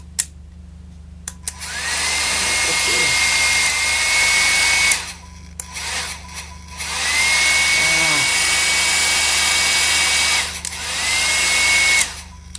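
A hair dryer motor under repair whirs loudly in three bursts, switched on and off with short pauses between, a steady whine rising as it spins up.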